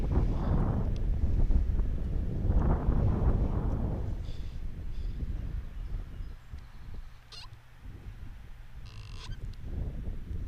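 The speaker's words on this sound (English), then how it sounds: "Wind has been picking up here." Wind gusting outdoors across a lawn bowls green during a men's under-25 semi-final, a steady broadband rumble with louder buffeting in the first few seconds, then settling into a lower, continuous rush with faint distant sounds.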